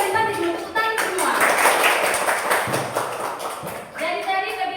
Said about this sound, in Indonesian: Tepuk tangan. Ternyata kalian tadi belum tepuk tangan semua.